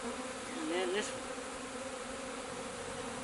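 Honeybees from a nuc being installed into a hive, a faint, steady swarm buzz with one nearer bee whining past briefly near the start.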